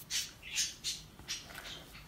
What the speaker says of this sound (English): So I've got some birds. They're having fun.